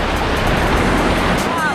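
Fast, high river water in Kullu, closed to rafting because the level is up. It makes a loud, continuous churning roar close at hand, with wind buffeting the microphone.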